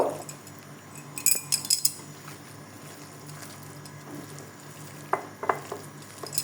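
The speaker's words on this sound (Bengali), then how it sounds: "দেখো একটা ডিম দিয়ে দিয়েছি এখন এটাকে আমি সুন্দর করে মেখে নিব" Minced meat being mixed with egg for meat pakoras, a moist squelching and stirring with occasional sharp clinks of utensils against a bowl, in bursts, at close range.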